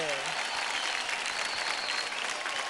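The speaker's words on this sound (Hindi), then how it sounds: "सुपर, जोरदार तालियां हो जाए" A studio audience at a televised dance and comedy show applauds loudly and steadily, with faint cheering mixed into the continuous clapping.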